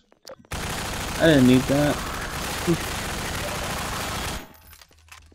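Sustained rattling automatic gunfire in the video game Half-Life 2: Episode One runs for several seconds, with a person talking over it briefly before it cuts off.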